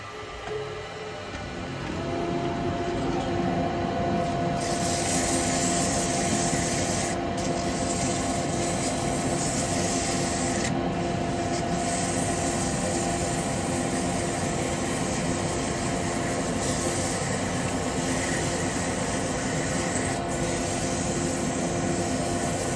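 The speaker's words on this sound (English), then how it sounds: "I'm going to do a little bit of sand on that top." Sanding on the top of a wood-turned log bird feeder spinning on a lathe: a loud, continuous rushing abrasive hiss that swells in after a couple of seconds and holds steady, with no talking.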